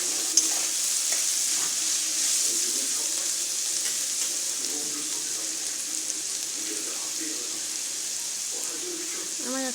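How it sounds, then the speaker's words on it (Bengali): Carrot and prawns for a vegetable pasta hiss and crackle as they stir-fry in a pan, a steady close sizzle with occasional stirring clatter and a faint voice in the background. "গাজরটা দিয়ে দিচ্ছি এখন আমি আবারও একসঙ্গে সব মিশিয়ে নেবো"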